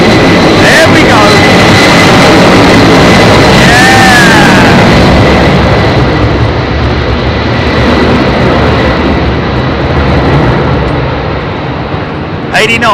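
A heavy jet takes off from runway 27R at London Heathrow, a loud, close engine roar that stays strong for the whole stretch and eases slightly toward the end, while people talk excitedly over it.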